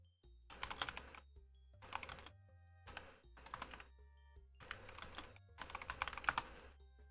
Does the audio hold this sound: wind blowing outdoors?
no